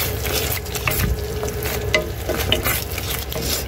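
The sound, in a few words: stirring chicken dish mixed with ketchup in pan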